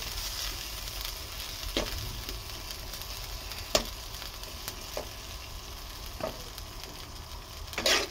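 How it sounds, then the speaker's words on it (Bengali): Turmeric, ginger and cumin spices fry and get stirred in a pan for a fish curry, a soft continuous sizzle broken by a few sharp scrapes and clinks of the spoon. "একটু নাড়াচাড়া করে কষাচ্ছি মশলাটা"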